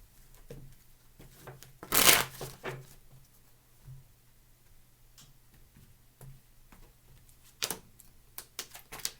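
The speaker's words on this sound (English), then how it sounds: "2 more shuffles." Tarot cards being shuffled by hand in a quiet room, with a short burst of riffling and a few softer card taps and slides spread through the rest, close and fairly faint.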